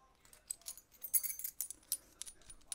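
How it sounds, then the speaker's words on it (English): A key-shaped pocket multitool jangles against keys on a key ring, giving a quick series of bright metallic clinks and rattles that come close, irregular and separate, with no talking. "you can put it on your keys as well"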